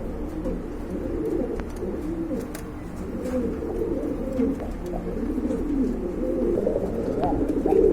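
Many pigeons coo at a pigeon sale that includes Bombay and local Giribaz birds, a dense, continuous murmur of low, overlapping coos close by with no clear breaks.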